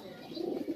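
Pigeons cooing at a pigeon farm, a steady low murmur of overlapping coos from several birds close by, with no talk over it.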